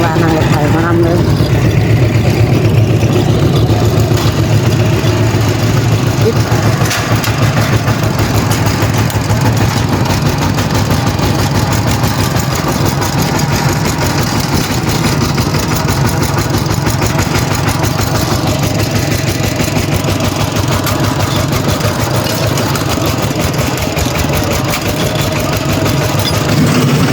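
A tractor engine runs steadily nearby for the whole stretch, a loud, continuous low chugging rumble that never drops away.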